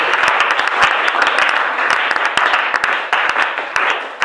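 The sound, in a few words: congregation applauding in church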